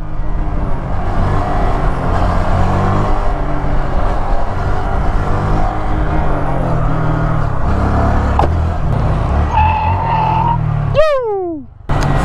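Honda Grom motorcycles ridden hard on open roads during wheelie stunts, a loud, close engine roar with rising and falling revs for several seconds, then a sharp sweeping pitch climb near the end.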